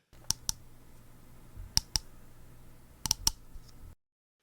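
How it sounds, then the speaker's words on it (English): Light fingernail taps click on a hard surface in small pairs and clusters, crisp and close, separated by quiet pauses over a soft hum. "or the tapping of fingernails on a table."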